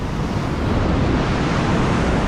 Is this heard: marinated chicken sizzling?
no